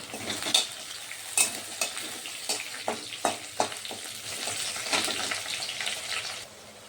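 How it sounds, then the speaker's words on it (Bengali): Onions with two bay leaves fry in hot oil for a jackfruit and prawn curry, giving a steady soft sizzle broken by a series of sharp spoon scrapes and clinks against the pan, with no voices. "পেঁয়াজ ভাজার সঙ্গে আমি দুটো তেজপাতাও দিয়ে দিচ্ছি।"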